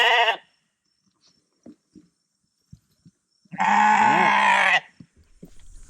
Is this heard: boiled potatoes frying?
no